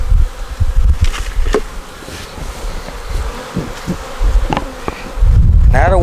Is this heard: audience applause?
no